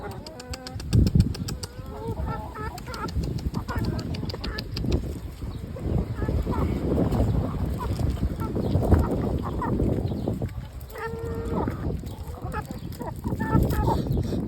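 Bresse chickens cluck and call repeatedly while being fed, with people talking over the flock and brief flurries of activity throughout.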